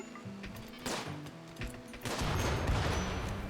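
A single volley of gunfire in a grassland survival video game: a sharp burst of shots followed by a louder, sustained crackling rumble of fire.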